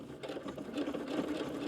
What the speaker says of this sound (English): I'm going to go over to the machine and I'm going to sew along the sides and the bottom